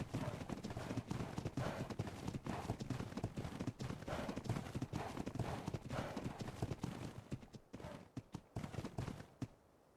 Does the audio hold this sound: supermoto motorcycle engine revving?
no